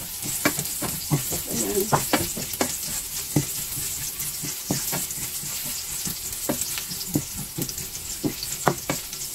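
Chicken wings have just been fried in this pan with a little oil, and now garlic sizzles in it with a crackling hiss and sharp stirring clacks close by. A short spoken word comes near the start.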